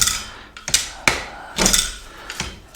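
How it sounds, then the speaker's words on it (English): A Daytona 1300 lb self-loading positioning wheel dolly is ratcheted down and back up, producing a series of sharp metallic clicks and clunks at irregular intervals, close and fairly loud. "And you just ratchet step all the way down and then up."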